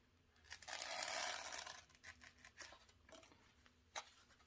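A knife or blade slicing through Kaizen foam to make cut-outs for keys gives a close, rasping tear that lasts about a second, then a few shorter scraping strokes and one sharp final snag.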